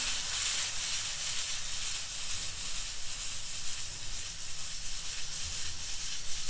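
Butter and water simmering in a pan with a toast filling, a steady close sizzling hiss with soft bubbling that holds evenly throughout, no talking.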